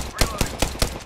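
Automatic weapon fire from the Apex Legends battle royale game comes as four evenly spaced loud shots in quick succession during a ranked match on Storm Point.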